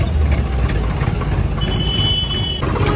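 A tractor being hitched to a trolley outside a bumper repair shop idles with a steady, loud low rumble throughout, close by and continuous.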